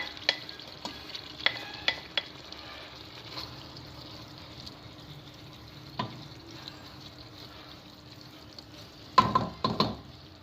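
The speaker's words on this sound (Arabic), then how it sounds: "نضيف البصل نقليه مليح" Chopped onions frying in oil in a pan as a spoon stirs them, a steady soft sizzle broken by scraping strokes, with a louder cluster of stirring near the end.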